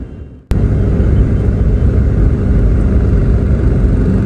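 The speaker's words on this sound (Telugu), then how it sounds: "బస్సు అయితే చెన్నై నుంచి స్టార్ట్ అయింది" A bus engine starting up loud and close as the bus pulls away from Chennai, a sudden onset of heavy rumble that holds steady throughout.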